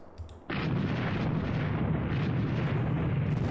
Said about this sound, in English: Let's put some heavy artillery on this.